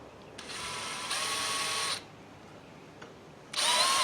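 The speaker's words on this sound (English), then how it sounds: "Okay, so we're going to drill pilot holes." A power drill with a 1/8-inch bit whines in short bursts while drilling pilot holes, near and steady, stopping and starting again after a pause.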